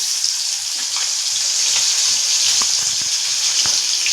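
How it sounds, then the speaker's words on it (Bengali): Snakehead fish pieces coated in salt and turmeric frying in oil, with a steady, fairly loud high hiss of sizzling and occasional soft crackles. "শোল মাছ ফ্রাই হচ্ছে"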